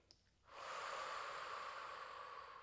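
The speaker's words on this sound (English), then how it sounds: "Breathing deeply." A single slow, deep breath during a full-body stretching session, a soft airy rush rising after a brief pause and held steadily, faint and close with no talk.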